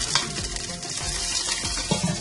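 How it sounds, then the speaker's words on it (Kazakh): Meat frying in hot horse fat in a kazan, a dense, steady sizzle up close with scraping stirs and bubbling crackle throughout. "етімізді қуырамыз."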